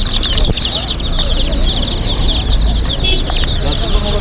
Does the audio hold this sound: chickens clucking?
yes